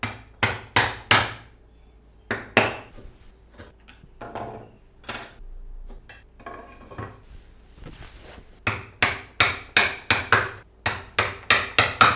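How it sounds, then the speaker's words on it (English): Chiselling wood for a tight joint in a guitar build, sharp repeated tapping blows in bursts with quieter gaps of scraping and handling between them, close and crisp, no talking. "Chisel it, and it's got to be nice and tight."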